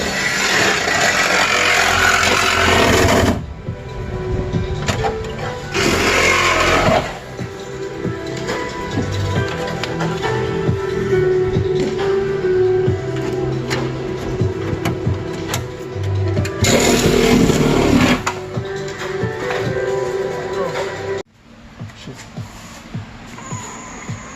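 Power drill working on a Honda Civic EG chassis during an all-wheel-drive swap, boring out tack welds in steady grinding runs broken by short pauses, loud and close in a workshop with no talk.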